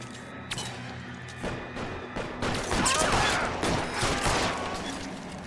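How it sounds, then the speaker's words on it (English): Tommy gun fire in the L.A. Noire video game, rapid bursts of automatic shots mixed with thuds and impacts that grow denser and louder partway through. "Oh, you guys got a Tommy gun."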